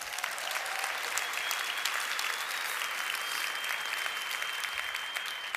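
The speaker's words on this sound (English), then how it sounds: "Give them a round of applause." Sustained applause from an audience at a recruiting seminar event, steady dense clapping filling the whole stretch at a moderate distance with no voices over it.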